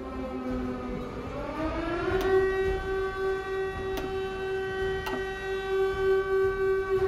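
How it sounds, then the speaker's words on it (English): A civil defense air-raid siren from the strategy game Hearts of Iron IV winds up and holds a steady, loud wailing tone, with a few sharp clicks breaking through as it sounds on alone. "What are these sirens?"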